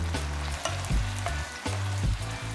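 Vegan tofu stir-fried with cashew nuts, spring onion, toasted sesame and miso sauce, a busy close sizzle with rhythmic scraping and clanking of a spatula tossing the mix.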